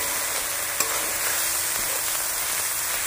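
Cumin, ginger and garlic pastes fry in a pan with a dense, continuous sizzle, close and fairly loud, broken once by a faint tap of the spoon and no voices.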